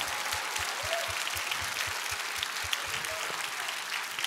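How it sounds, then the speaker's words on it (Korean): A church congregation claps together in dense, continuous applause, fairly soft and even, with a low rhythmic thumping beneath it. "박수하겠습니다"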